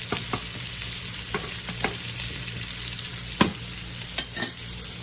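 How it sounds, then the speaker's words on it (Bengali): Nigella seeds sizzling in hot oil, a steady crackling hiss with a few sharp pops and scrapes scattered through it, and no talking. "দিলেই হয়ে যায় কালো জিরা তেলে দিয়ে"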